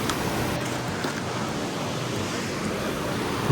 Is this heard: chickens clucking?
no